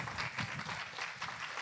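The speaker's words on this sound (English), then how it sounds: "Give her a hand clap" An audience gives hand clapping in honor of Tyra Hodge, a former student, at a faith gathering; the applause is fairly quiet and steady, a scattered patter of many hands lasting under two seconds.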